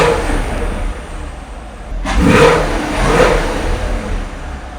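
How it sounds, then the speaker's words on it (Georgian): A 2021 Chevrolet Camaro SS with a broken headlight and damaged front runs at a low rumbling idle, then gives a couple of short throttle revs that swell and fall back, close by, with no talk. "მანქანა კი მუშაობს"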